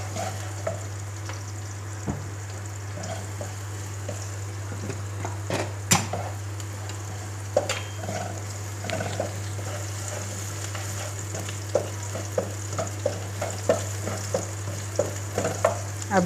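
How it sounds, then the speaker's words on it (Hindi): Finely chopped garlic and ginger sauté in a pan for chicken Chinese rice, a soft steady sizzle over a constant low hum, punctuated by sharp clicks and scrapes of a spoon stirring against the pan. "इसके साथ ही हम लहसुन और अदरक जो हमने बारीक बारीक चॉप किया था उसको डाल लेंगे। हमने सौते करना है"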